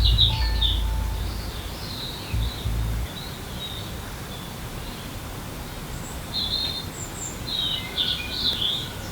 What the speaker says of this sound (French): Le chant des oiseaux est décuplé